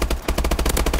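Automatic weapon fire in the video game Destiny, a fast, steady stream of close, loud shots, about a dozen in a single second.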